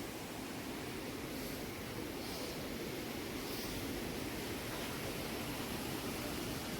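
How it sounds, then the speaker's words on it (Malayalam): A small waterfall with low water flow makes a steady, even rush of falling water, soft and unbroken throughout with no voices. "ഇപ്പോൾ വെള്ളം കുറവാട്ടോ വെള്ളം കുറവാണ് നല്ലൊരു വെള്ളച്ചാട്ടമാണ്"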